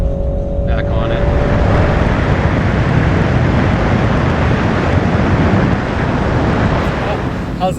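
Wind roars through an open window of a moving 2020 BMW 330i, a loud, constant broadband rush that fills the cabin for the whole stretch, with a faint tonal whine at the start.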